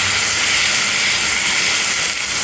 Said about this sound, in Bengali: সামান্য জল দিয়ে ভালো করে কষিয়ে নেব